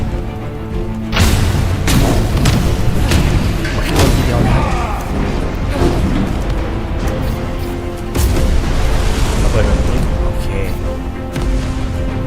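Repeated heavy booms and crashing blasts of explosions in the video game Steel Seed, loud and dense, with a steady rumbling bed between the hits.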